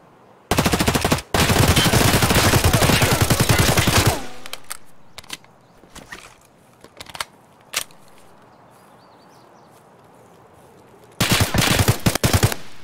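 Gunfire in Escape From Tarkov: long loud bursts of automatic fire open the scene, followed by scattered single shots and quieter distant pops, then another heavy burst at the end.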